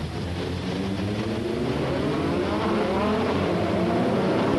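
Formula 3 race cars at the Pau street circuit, 2003 F3 EuroSeries, roar past in a continuous close pack, engines loud and steady with rising and falling pitch throughout, no voices.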